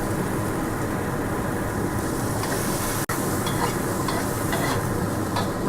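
Shrimp, tomatoes and chili stir-fry in a hot pan for fried rice with pete, a continuous close sizzle with scraping stirs and one brief cutout partway through.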